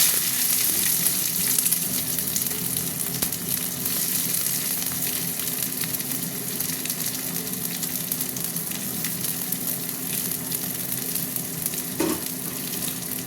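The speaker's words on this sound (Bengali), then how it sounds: "এই পেঁয়াজ দিয়ে দিচ্ছি" Finely sliced onions frying in hot oil in a pan make a dense, steady sizzle and crackle, close and loud, with an occasional stir and no voices.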